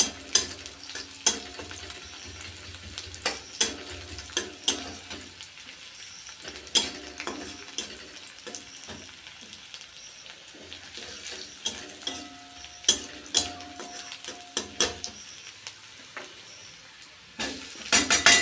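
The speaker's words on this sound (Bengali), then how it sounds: "রসুনগুলো লাল লাল করে ভেজে নেবো" Garlic cloves frying in oil in a wok, re-heated after frying magur catfish: a constant low sizzle broken by sharp, irregular clinks and scrapes of a spatula stirring, fairly close and with no talking.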